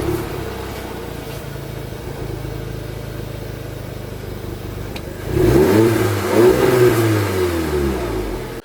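A car engine idles with a low steady hum, then revs up sharply partway through, pitch rising and falling in a couple of surges, close and fairly loud.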